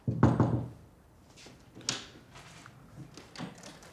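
Knocking on a door: a few dull raps up close, then quieter scattered taps and thumps follow in a hushed room.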